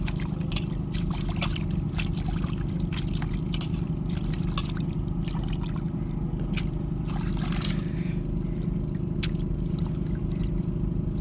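Salted dried fish being rinsed by hand in water, steady sloshing, splashing and scraping close by with a constant low background hum, without talk.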